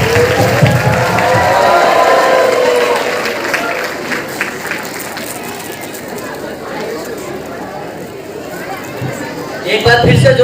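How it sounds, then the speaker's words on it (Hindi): Sustained applause fills a school's 27th annual function in Dadawas as teachers receive best teacher awards, with the crowd's clapping loud at first, then steady and somewhat softer, mixed with audience chatter. "एक बार फिर से जोरदार तालियां सभी टीचर्स के लिए"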